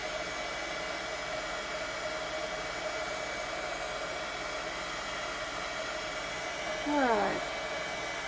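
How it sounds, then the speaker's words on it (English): A heat gun blows steadily over a stamped holiday card, a constant airy whir at close range; a brief voice sounds near the end. "I don't normally run the heat gun that long"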